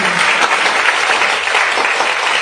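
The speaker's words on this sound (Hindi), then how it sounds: "इतना ताली बजना चाहिए लोग के लिए, जबरदस्त है।" An audience at an Ok Life Care training seminar in Raigarh, Chhattisgarh applauds: dense, continuous clapping from many hands fills the room at a steady, lively level.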